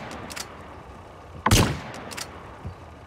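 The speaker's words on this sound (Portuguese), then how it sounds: "E não tô errando nenhum tiro de sniper." A sniper rifle shot in the video game GTA San Andreas, a single sharp loud crack near the middle, with fainter shots and game noise around it.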